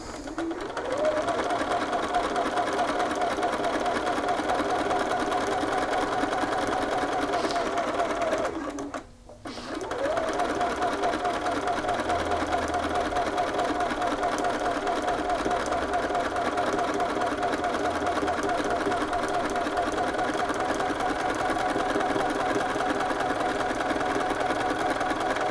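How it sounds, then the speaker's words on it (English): Home sewing machine running a long temporary seam 3/8 inch from the cut edge, a steady close, continuous whirring hum with one brief stop partway through before it resumes. "I'm just going to be stitching at 3/8 of an inch from the cut edge"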